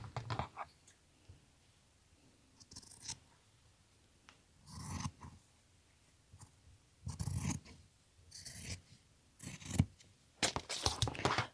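Scissors snip through denim fabric while a quilted jacket is being made, a series of short crisp cutting bursts separated by quiet pauses, close by and with no talking.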